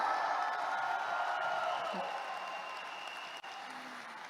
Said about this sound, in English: Can we all give ourselves a round of applause today to all the successful people in the house?